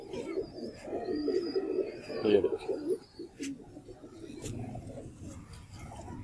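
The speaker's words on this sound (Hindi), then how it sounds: "अब मैं आपको ना कबूतर भी दिखाता हूँ।" Kasuri pigeons coo in low, throaty bursts close by while someone talks over them, with soft rustling and a few faint chirps.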